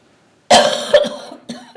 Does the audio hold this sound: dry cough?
yes